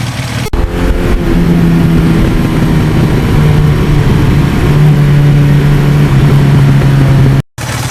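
A 1982 Suzuki GS1100E superbike engine runs at a steady, loud, close idle drone with a constant throb, apart from one brief cut near the end.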